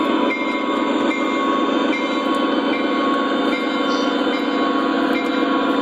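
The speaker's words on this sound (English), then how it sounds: "The SD40 is going through the grain yard facility, so I can turn the locomotive around." An O gauge model SD40 diesel locomotive runs through a grain yard on a model railroad layout, making a steady, close mechanical hum and rumble with faint wheel clicks throughout.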